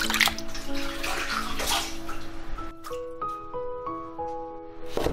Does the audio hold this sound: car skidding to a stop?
no